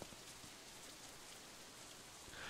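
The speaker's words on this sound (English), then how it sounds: "As we approach the girls' dormitory, it starts to rain again." Steady rain falls during a Katawa Shoujo visual novel scene, heard as a soft, even hiss of drops that continues without a break. There is no talk.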